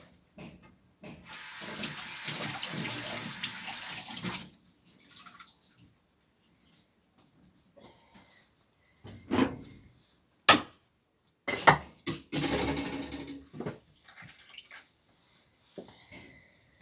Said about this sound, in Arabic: نغسل بقى ايه البوتاجاز ونروق الدنيا كده